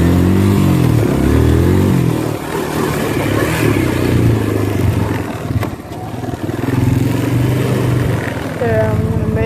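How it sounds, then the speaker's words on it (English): A motorcycle engine roars loud and close as the rider pulls a wheelie, revving hard with a dip and surge in pitch, then holding a steady loud drone. "I'll show you one more wheelie."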